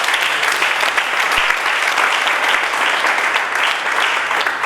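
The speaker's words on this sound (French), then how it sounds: "Est-ce qu'on va acclamer Yeshua?" A church congregation claps loudly and continuously for Yeshua, a dense, unbroken wash of applause with some cheering mixed in.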